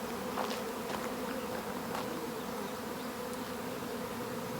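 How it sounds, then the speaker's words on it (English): A honey bee swarm buzzes steadily around a hive box as the colony settles toward its queen, a dense continuous hum with individual bees zipping close past now and then. "Okay, so the bees are settling right in this colony."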